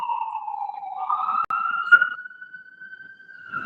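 An ambulance siren wails close by outdoors, a steady rising and falling electronic tone that stays loud across the whole stretch, with faint street noise beneath and no talking.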